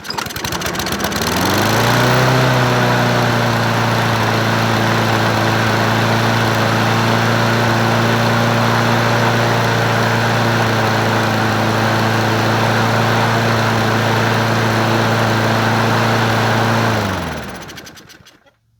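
A Brute 22 self-propelled lawn mower with a 190cc engine starts up and runs loud and steady at close range for about fifteen seconds, then sputters out and stops near the end; no one speaks.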